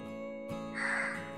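A single crow caws close by, a harsh nasal call standing alone against a quiet background.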